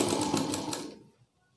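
A sewing machine stitching the front design of a blouse runs in a loud, fast whirring burst of about a second, then stops abruptly into near silence.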